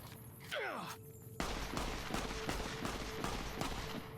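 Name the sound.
gunfire in the video game Fallout: New Vegas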